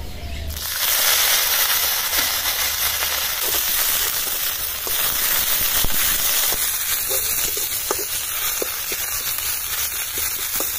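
Moringa (drumstick) leaves and ivy gourd leaves fry in hot oil in a pan, giving a steady, fairly loud crackling sizzle that runs without a break and with no talking.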